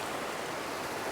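Steady rushing flow of the Blue River, a broad, even wash of moving water close by with no breaks or voices.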